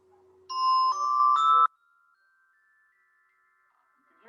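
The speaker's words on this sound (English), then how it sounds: "Now, let's try the xylophone." Three bright, ringing xylophone notes, each one higher than the last, struck in quick succession close to the microphone, followed by a fading shimmer and near silence.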